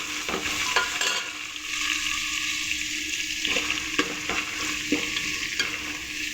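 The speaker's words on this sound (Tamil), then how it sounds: "இப்போ நீங்கள் ஆனியனை நல்லா வதக்கணும்." Sliced onions sautéing in a pan for chicken biryani over a medium flame: a continuous close sizzle with repeated scraping strokes of a stirring spoon, steady and fairly loud.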